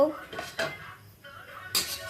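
Metal clinks and scrapes of a spatula stirring dry spices roasting in a hot metal wok for pickle, a few sharp bursts of clatter with quieter rustling between.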